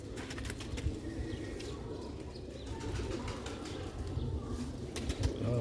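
Dabaj pigeons coo in low, rolling murmurs close by, mixed with occasional quick bursts of wing flapping against a steady hum of background noise.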